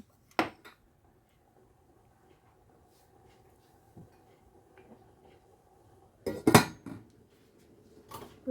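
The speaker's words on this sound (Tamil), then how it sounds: "கொஞ்சம் மூடி விட போகிறேன்" A metal lid clanks onto a cooking pot, and a second, louder clatter of metal follows later amid quiet kitchen sounds.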